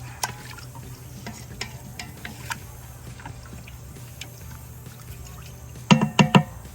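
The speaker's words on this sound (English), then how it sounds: "And then we stir." Rice being stirred in a pot while Cuban food cooks, soft scraping and light clinks over a low sizzling bed, ending in a short burst of louder spoon knocks against the pot.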